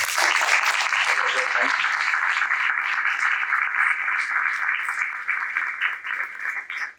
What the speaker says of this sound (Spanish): les pido un fuerte aplauso para la...